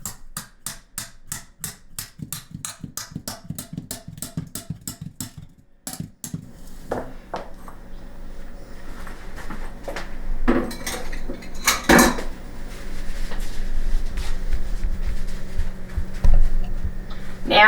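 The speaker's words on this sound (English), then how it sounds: "Hold your ears. I'm going to beat the pan." A cooking pan is beaten hard while making keto carnivore bread: about twenty rapid, evenly spaced metallic clangs ring out close and loud, then give way to scraping and rattling clatter.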